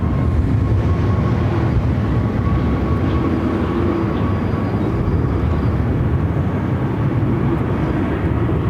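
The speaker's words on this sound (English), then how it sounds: "Now the Frontier flight heading over to 25 right" Frontier Airlines Airbus A320neo departing Phoenix runway 25 right, a steady loud broadband jet roar rumbling continuously throughout, with a faint whining tone riding above it.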